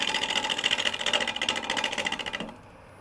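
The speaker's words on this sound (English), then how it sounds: "We're going to be stopping the lathe fairly often to check it." A wood lathe turns a fork-in-the-limb bowl blank with a rapid, regular whirring pulse, loud and close, then spins down and falls quiet near the end.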